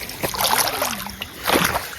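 Feet splash through knee-deep water at a stream crossing in two close, sloshing bursts with a short pause between them.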